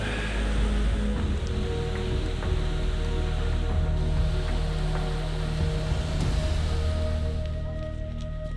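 A glacial river rushes through a mountain gorge near the Höllentalanger Hut below the Zugspitze, a steady close roar of flowing water that holds constant from start to finish with no voices.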